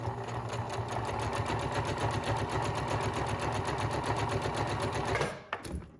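A sewing machine stitches a seam on a homemade fabric face mask, running in a fast, steady rhythmic whir up close before stopping abruptly near the end.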